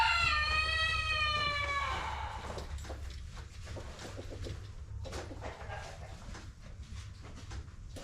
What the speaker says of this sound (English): Yeah, the roosters are loud